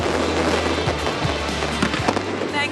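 Fireworks burst over the Sydney Royal Easter Show at night, a steady stream of crackling pops and booms that blend with a constant low rumble and crowd noise.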